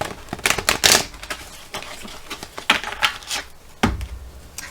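A deck of mirror oracle cards is cut and shuffled by hand, a close run of crisp riffling bursts and flicks that come unevenly, with short pauses between them.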